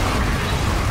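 A mortar fires in Gears of War 2: one loud, dense, booming burst that fills the whole moment without a break.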